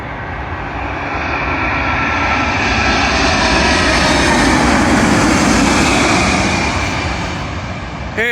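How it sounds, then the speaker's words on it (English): A Virgin Atlantic Airbus A350-1000 inbound from Delhi lands on Heathrow runway 27L with a loud, sustained jet roar. The roar swells as the aircraft passes close by and then eases slightly. "Arriving in now is a Virgin Atlantic Airbus A350-1000, working a service, I believe,"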